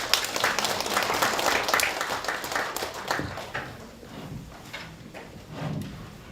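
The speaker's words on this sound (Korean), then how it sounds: "이영석 신부님을 박수로 맞이해주시기 바랍니다" An audience at a Buddhist studies society winter workshop applauds to welcome a Catholic priest as the speaker. The clapping is dense and sustained, then thins out and fades.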